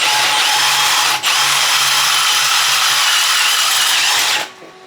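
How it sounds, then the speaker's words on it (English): A handheld power drill bores out a paint-filled hole in a part for a 1977 Harley-Davidson FXE Shovelhead, a loud, steady high whine with one brief dip that runs for about four seconds, then stops abruptly. "There was paint on the inside of the hole, so I had to drill it out, just slightly oversized"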